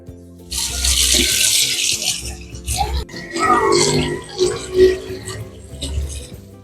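Running water splashes and pours through a colander close by as coriander is rinsed, with rinsing and handling noises, steady throughout.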